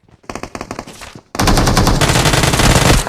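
Gunfire in the mobile game PUBG Mobile: a quick string of separate automatic shots, then a loud, dense, continuous burst of rapid fire, close and harsh.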